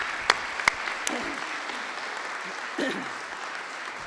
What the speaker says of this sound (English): Let's applaud Dr. Harry Murphy, founder of this conference 35 years ago.